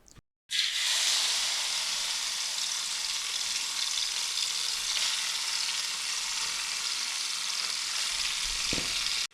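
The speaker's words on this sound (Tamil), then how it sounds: "ஆயில் ஊற்றின உடனே நம்ம வாஷ் பண்ண சிக்கனை பாத்திரத்தில் போட்டுருவோம்" Washed chicken pieces frying in a small amount of oil in a pan, a loud steady hissing sizzle that starts abruptly after a brief pause and holds evenly to the end.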